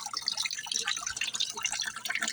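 Close, lively splashing and dripping as a landscaping fountain's jet arcs into a pool of water, a bright, busy patter of droplets with no talk.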